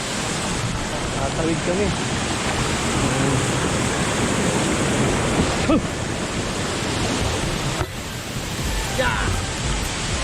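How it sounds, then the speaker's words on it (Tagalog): Talon ni Eva waterfall in Bulacan roars as a loud, steady wash of broadband rushing water close by, with people shouting and talking over it now and then. "Ito na yung falls"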